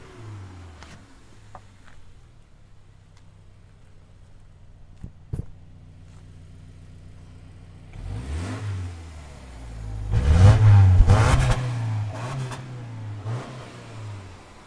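A 2020 Subaru Outback sits quiet before its engine cranks and starts, then revs loudly a couple of times and settles back to a steady idle, heard close up.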